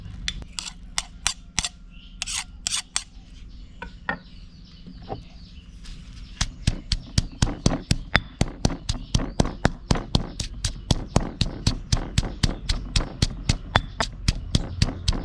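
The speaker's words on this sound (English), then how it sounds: "If you have mortar and pestle, smash it up." Chillies and garlic are pounded with a mortar and pestle for Thai stir-fried holy basil with pork, a steady run of sharp, close knocks. They start sparse and irregular, then settle into a fast, even rhythm for the second half, with no talk.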